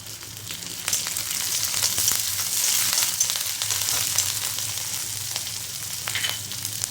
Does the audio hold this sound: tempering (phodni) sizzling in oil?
yes